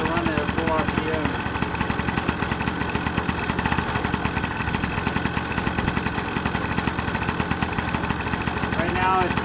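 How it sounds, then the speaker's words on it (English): Vittorazi paramotor two-stroke engine idles to warm up at about 6,800 feet, a loud, close, rapid steady chatter that runs continuously with a voice talking over it. "because I want to let the motor warm up"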